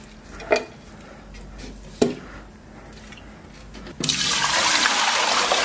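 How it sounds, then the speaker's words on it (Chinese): Water poured into a pressure cooker holding stir-fried pork knuckles with scallion and ginger, preceded by two light clinks, then a steady loud splashing pour that continues to the end. "然后稍微来点水"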